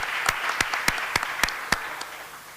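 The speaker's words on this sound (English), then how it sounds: "let's take a moment really quick to give ourselves a round of applause" Audience at a closing keynote of an open badges hackathon conference applauding, heard as a handful of sharp, evenly spaced claps at moderate distance rather than a full roaring ovation.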